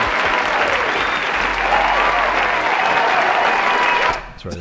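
A canned applause sound effect plays from a button, a steady, loud burst of crowd clapping that holds evenly and then cuts off abruptly near the end, with faint talk underneath.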